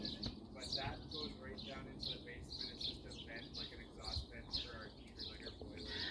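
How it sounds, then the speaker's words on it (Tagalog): Birds chirp and tweet repeatedly outdoors on a sunny spring day, a steady chorus of short bright calls at moderate distance over a low background hum of traffic and activity. "Ang ganda ng sikat ng araw at ang ingay ng mga ibon."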